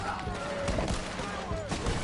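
Bursts of gunfire from a Red Dead Online shootout crackle fairly faintly under overlapping voices, a quick cluster of shots across two seconds.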